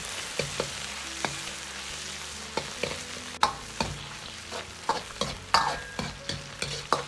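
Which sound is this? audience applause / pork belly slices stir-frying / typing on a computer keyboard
pork belly slices stir-frying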